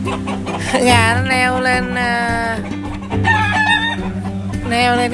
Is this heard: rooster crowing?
yes